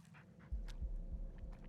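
A dog panting in the Blair Witch horror video game, a quick rhythmic run of soft breathy huffs, fairly close but quiet, alone without talk.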